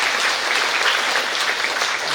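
Big round of audience applause at an International Women's Day celebration at Vigyan Bhavan, dense continuous clapping from a large hall crowd, steady and loud.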